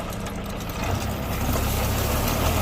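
A tractor-driven baler rolls straw into round bales, a steady, loud engine rumble with continuous mechanical noise that grows slightly heavier partway through.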